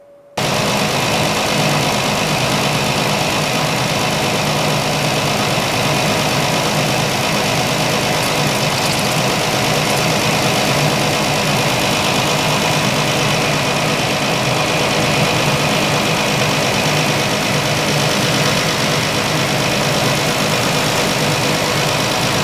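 A car engine idles steadily with the heater switched on, a loud, constant rumbling hum that runs unbroken and close by throughout.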